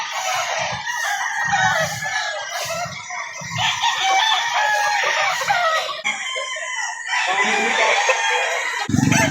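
Gilmore gamefowl roosters at a sale in Lipa City crow repeatedly, with loud overlapping cock-a-doodle-doos and clucks close by, mixed with faint background voices.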